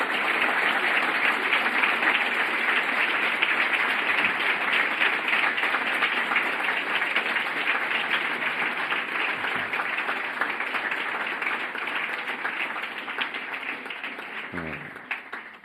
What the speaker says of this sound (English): let's give Mrs. Lakey a round of applause.